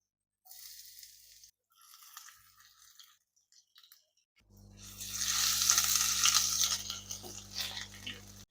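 Chopped garlic and ginger hit hot oil in a wok, and a loud, bright sizzle rises sharply and holds steady after several seconds of quiet, faint handling sounds.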